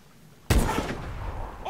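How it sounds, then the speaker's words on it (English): Gunfire in the Call of Duty Advanced Warfare campaign breaks in suddenly after a short quiet stretch: a loud, close burst followed by sustained, dense firing. "Open fire when we're in position, Aluna."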